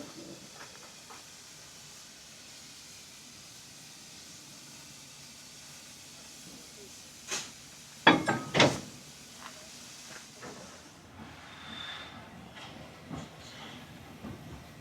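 Faint rumbling hiss of a steam locomotive on the Isle of Wight Steam Railway, then a few sharp metallic clanks and bangs as it couples to the train, with a hiss of steam afterward.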